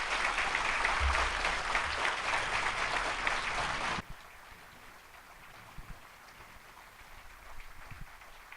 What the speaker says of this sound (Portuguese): Así que con un fuerte aplauso recibimos a nuestro hermano William José Santiago.